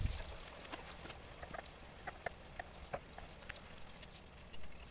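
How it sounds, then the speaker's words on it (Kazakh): Eggplant slices dipped in egg fry in a hot pan, a steady close sizzle dotted with small sharp pops and crackles, quiet and with no talking. "баклажанды жұмыртқаға малып, жақсылап қуырып аламыз"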